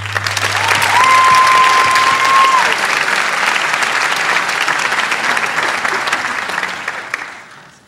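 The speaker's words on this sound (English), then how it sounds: "Let's give one more round of applause to Mr." At a 2004 high school scholarship awards night, a hall audience gives a loud, full round of applause to Mr. Harrington and the Select Ensemble, holding steady before fading away at the end.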